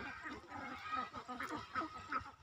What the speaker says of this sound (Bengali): নদী আছে, নদীতেই খুব ভালো হয়